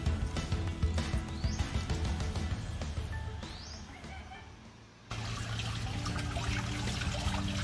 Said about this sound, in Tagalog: antayin lang natin na mapuno ng tubig yung ating pan.